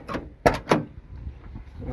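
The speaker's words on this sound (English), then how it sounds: "Let's open the door." A worn door on a 1980 Ford F250 4x4 pickup being opened: a short rattle, then two sharp metallic clunks close together, near and loud, followed by quiet handling noise.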